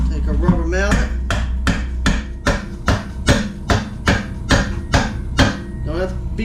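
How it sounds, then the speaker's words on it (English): A rubber mallet knocks on the wheel parts of a 2017 Victory Cross Country motorcycle in a steady series of moderate taps, about a dozen evenly spaced blows, close by, while someone speaks over the first stretch. "Take our rubber mallet."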